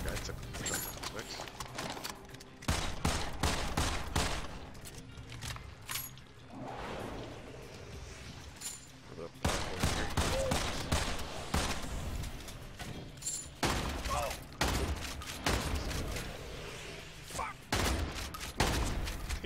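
Shotgun blasts in the video game Immortal Redneck, loud, sharp reports fired in irregular bursts with short pauses, some rapid clusters, mixed with mechanical clacks and reload rattles.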